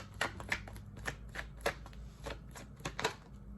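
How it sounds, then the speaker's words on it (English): Tarot cards being moved and shuffled on a surface, a series of about a dozen soft close slaps and riffles at an irregular rhythm, quiet with no talk. "I'm going to probably move the cards over too"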